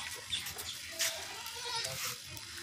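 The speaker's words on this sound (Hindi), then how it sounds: "और ये बीतल बकरी है अल्हम्दुलिल्लाह।" A Beetal goat gives several short, faint bleats at irregular intervals among other quiet farmyard noise.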